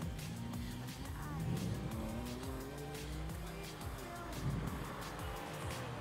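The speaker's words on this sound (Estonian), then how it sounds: "Nii, startis auto numbriga 29, Priit Massa, BMW." A BMW race car at a one-mile standing-start speed event, engine droning and rising through gears with some tire noise, heard from nearby over steady crowd and commentary background, with faint talk.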